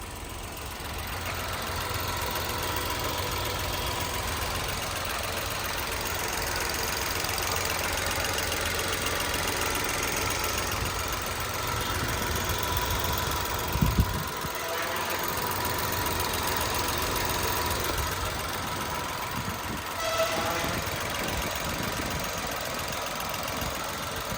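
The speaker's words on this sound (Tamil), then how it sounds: "வண்டியோட இன்ஜின் நம்ம ஸ்டார்ட் பண்ணியிருக்கோம். ரன்னிங்கில் தான் இருக்குது." A 2010 Nissan Micra XV top model idles steadily for the whole stretch, a continuous mid-pitched engine drone with a faint knocking texture and a couple of brief bumps near the middle, with no talking.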